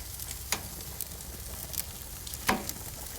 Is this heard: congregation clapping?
no